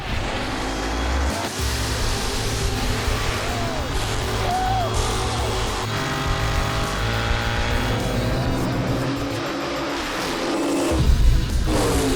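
A drag racing car at Maple Grove Raceway launches off the line and lifts into a wheel stand, its loud engine roar running steadily throughout, with a heavy surge near the end.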